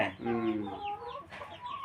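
Fighting-breed chickens and roosters clucking close by on a poultry farm, several loud rising and falling calls in quick succession, with a faint human voice in the background.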